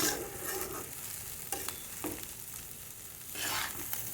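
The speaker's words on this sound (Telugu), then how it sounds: "చూసారా, ఇలా ఫ్రై అయితే సరిపోతుంది." Spiny gourd (kakarakaya) curry frying in a pan, a continuous soft sizzle with occasional scraping stirs, close and fairly quiet.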